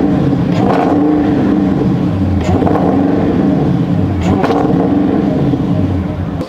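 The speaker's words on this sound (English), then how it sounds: "Let me hear the supercharger." A supercharged 1000 HP Dodge Durango engine revs loudly and steadily up close, with a dense, continuous roar and repeated swells in pitch.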